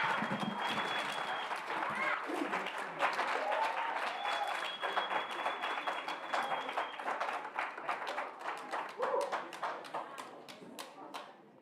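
An audience at a memorial lecture applauds after a song: dense, sustained clapping from a large crowd that slowly thins toward the end, with faint voices mixed in.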